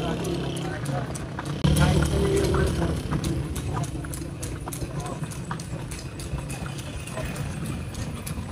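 Horse hooves clip-clop in a steady rhythm on pavement in the historic streets of Vigan City, Ilocos Sur, close by, mixed with street noise and people talking.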